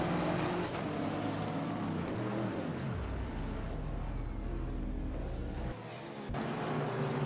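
A McLaren GT3 race car races at the Mid-Ohio Sports Car Course, its engine a continuous moderately distant roar that rises and falls as it shifts gears and passes through corners.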